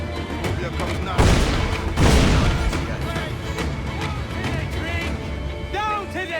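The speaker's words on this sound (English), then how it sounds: "They're firing mortars!" Mortar and gunfire in the pirate game Assassin's Creed Black Flag: two loud booming blasts in quick succession near the start, followed by ongoing rumble and scattered crackle, with shouted voices throughout.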